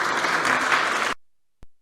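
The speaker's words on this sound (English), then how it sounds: "You can applaud a bit." Audience at a conference breaks into loud, dense applause that carries steadily for about a second before cutting off abruptly, followed by silence and a brief faint clap.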